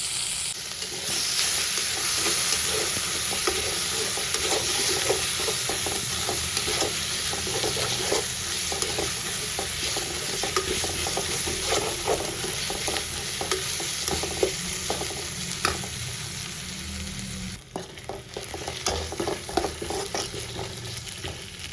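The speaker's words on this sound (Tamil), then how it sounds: "தக்காளி வதங்கிட்டு இருக்கு." Tomatoes sizzle steadily in a hot pan for quail egg gravy, with frequent scraping and stirring sounds over a constant frying hiss. There is no talking.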